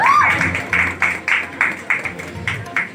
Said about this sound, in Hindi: तो इसके लिए जोरदार तालियां होनी चाहिए।